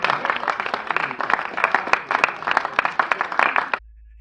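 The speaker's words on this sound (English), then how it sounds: "Come on, it's just me clapping right now," A single person claps hands in a fast, steady run of sharp, close smacks for almost four seconds, then stops abruptly into near silence.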